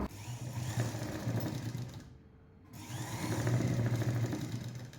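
A sewing machine stitches the edge of a blouse piece with a steady close whirring run, pausing briefly partway before starting up again.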